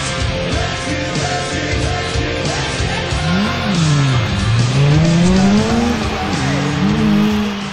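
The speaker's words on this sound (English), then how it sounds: "I'm here to drive a rally car." A rally car driving hard, engine note rising and falling under loud, sweeping tire squeals that swoop up and down as it slides through turns, close and continuous.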